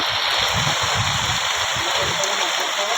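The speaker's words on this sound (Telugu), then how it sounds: "చూడండి ఫ్రెండ్స్ వర్షం ఎలా పడుతుందో" Steady rain pours down in a dense, even hiss, a continuous wash of water noise with no breaks.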